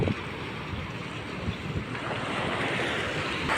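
Sea waves at Sabang beach in Baler, Aurora wash steadily onto the shore, with a continuous broad roar and some wind noise on the microphone, with no talking.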